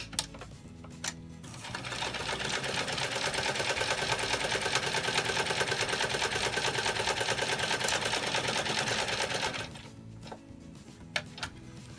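A sewing machine runs continuously for about eight seconds, stitching quilt pieces with navy blue thread, a steady fast mechanical whir starting and stopping with a few faint clicks around it.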